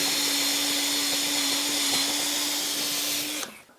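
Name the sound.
combined chamfer and reaming tool cutting a waste board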